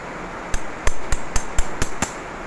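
Sharp metallic taps ring out as locking pins are hammered into a key for a 2000 Nissan Frontier, seven quick close strikes in an uneven rhythm over faint background hiss.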